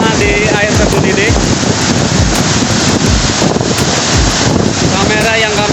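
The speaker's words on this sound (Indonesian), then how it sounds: "Kamera yang kami bawa, guys, terkena hujan butiran-butiran air yang cukup kencang ini" A forest waterfall roars steadily while heavy spray pelts the camera, giving dense, loud broadband rushing with buffeting wind-like thumps throughout.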